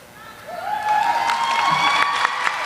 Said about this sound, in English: An extra round of applause to you all.